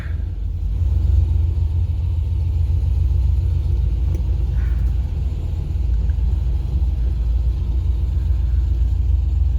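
A BMW E38's engine rumbles low and steady up close as the car sets off for a drive, with a constant deep drone and little change in pitch.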